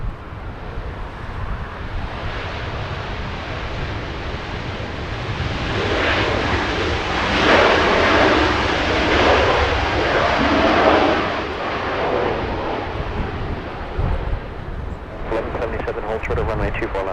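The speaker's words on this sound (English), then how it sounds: "That is the new A321neo." Delta Airbus A321neo jet taking off from runway 24 left at Los Angeles International Airport, its engine roar building steadily, peaking mid-clip and holding loud, with wind buffeting and a brief voice near the end.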